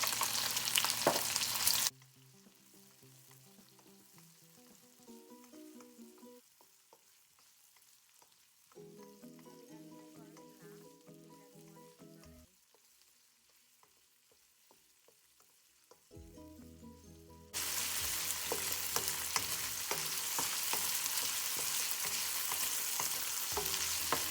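Onions and peppers fry in a hot pan for Jamaican ackee seasoned rice, a bright steady sizzle with occasional stirring that drops away into quieter stretches of faint crackle and background noise, then returns loudly near the end.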